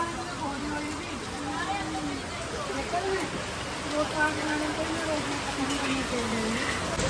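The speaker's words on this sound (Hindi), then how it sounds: "बारिश हो रही है" Steady rain hisses as a broad wash of noise throughout, with voices talking over it.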